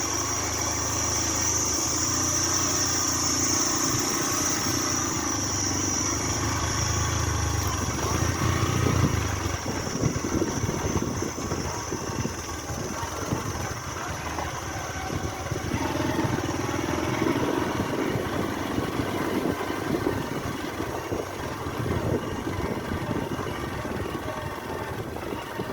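A motorcycle engine idles steadily and continuously at moderate loudness, with a constant broadband hum and some fluttering texture through the middle. No one speaks.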